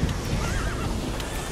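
A cavalry horse whinnies in the war video game Toy Soldiers, a single high, wavering neigh over a dense, steady background of battle noise.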